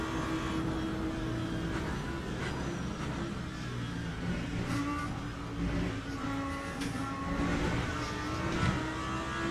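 GT3 race car engine in the Le Mans Ultimate sim at Daytona, a continuous revving drone that rises and falls through gear changes, with other cars faintly nearby.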